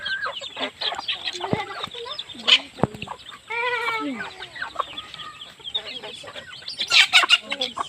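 Chickens and roosters on a hillside farm cluck and call close by in overlapping bursts, with a rooster's crowing standing out among the flock, no voices heard.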